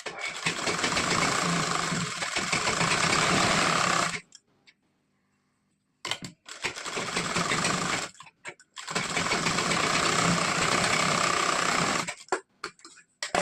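A sewing machine runs a blouse seam in three loud, close bursts of fast rhythmic stitching, broken by silent pauses with no speech.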